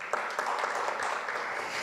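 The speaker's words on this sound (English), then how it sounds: "A round of applause for her." Audience applause at a research launch event as a speaker comes up: a room of people clapping steadily, moderately loud, with a few sharper individual claps standing out near the start.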